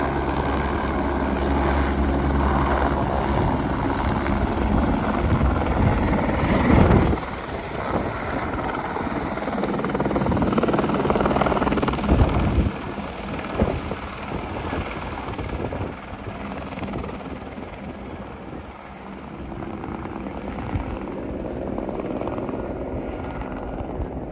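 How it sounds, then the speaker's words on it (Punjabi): Loud, steady helicopter rotor and engine roar nearby at a mountain helipad on the Hemkund Sahib route, thumping throughout, gradually easing and fading as it lifts away. "ਚਲੋ ਜੀ ਉੜਨ ਲੱਗਿਆ ਹੈਲੀਕਾਪਟਰ"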